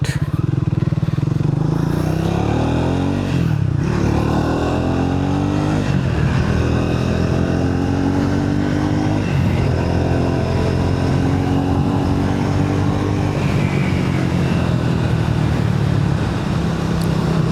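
A Triumph Speed 400 motorcycle climbs a hill, its engine droning steadily and loudly close by with rising and falling pitch sweeps as it accelerates, alongside wind rush.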